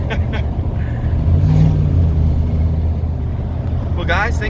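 A 1992 Chevrolet 454 SS pickup's big V8 revs hard as the tires try to break loose, a loud, steady low rumble that swells briefly early on, with a short voice near the end.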